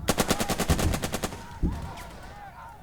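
A fast, evenly spaced burst of machine-gun fire opens a Burden of Command battle, loud and rhythmic for about a second and a half, followed by a single heavy thud and fading rumble.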